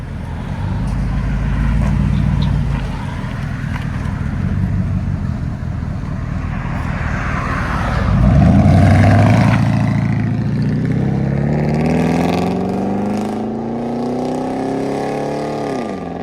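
A 1998 Chevy 1500 pickup with a 5.7L V8 and Flowmaster Super 10 mufflers rumbles at idle, then revs hard into a loud, deep exhaust roar that rises and falls, close by, with no talk.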